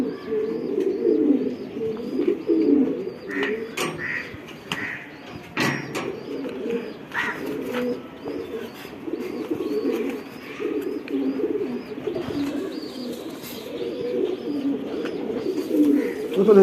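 Male racing pigeons in a loft coo continuously in deep, overlapping rolling calls, with sharp clicks, wing flaps and light bird chirps scattered through the long stretch.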